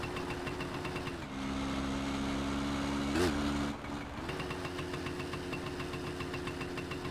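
Small motorcycle idling in My Summer Car, a steady low mid-pitched engine drone held throughout, with a brief shift in tone partway and faint background noise.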